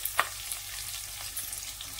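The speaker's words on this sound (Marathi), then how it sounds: "आता यामध्ये ना ठेचलेला लसूण घेतलेला आहे मी, हा ठेचलेला लसूण घालून घ्यायचा।" Crushed garlic sizzles and fries in hot oil with cumin and curry leaves, a steady close hiss with a few small pops and stirring taps, no voices.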